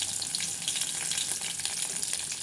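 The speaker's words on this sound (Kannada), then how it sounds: "ಈಗ ಎಣ್ಣೆ ಚೆನ್ನಾಗಿ ಕಾದಿದೆ, ಜೀರಿಗೆ ಹಾಕ್ಕೊಳ್ಳೋಣ. ನೆಕ್ಸ್ಟು ಸಾಸಿವೆ ಹಾಕ್ಕೊಳ್ಳೋಣ. ನೆಕ್ಸ್ಟ್ ಎಂತ ಇಲ್ಲ, ಹಸಿಮೆಣ್ಸಿನ್ಕಾಯಿ ಹಾಕ್ಕೊಳ್ಳೋಣ" Cumin seeds, mustard seeds and green chillies dropped into hot oil, a dense, continuous crackling sizzle heard close and fairly loud for a couple of seconds.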